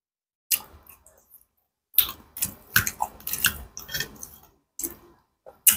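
Shrimp heads cooked with bitter melon and spicy cayenne are chewed close to the mic, giving bursts of crunchy, wet munching and crackling between short pauses.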